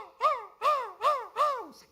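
A person's voice imitates a crow, giving four evenly spaced, harsh caws that rise and fall. The calls are close and clear, with no other talk over them.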